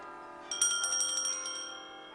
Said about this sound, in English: My husband used to love the bells. You can hear them so well from here.